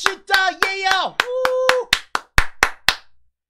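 Hands clap overhead in a brisk, steady rhythm of about a dozen loud, close claps, while a voice shouts an energetic chant over them.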